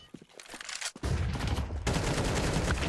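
Pistol gunfire during a professional Counter-Strike match, Falcons against Astralis, starting with a few scattered shots before a dense burst of rapid overlapping fire that keeps going to the end.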